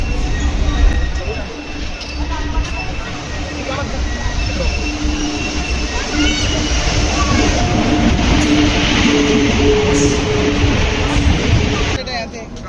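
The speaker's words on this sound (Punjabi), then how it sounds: "ਆਪਣੀ ਟ੍ਰੇਨ ਆ ਚੁੱਕੀ ਹੈਗੀ" A train at a railway station on a journey toward Rishikesh rumbles loudly with steady wheel noise and squeals for over ten seconds, with people talking and bustling nearby.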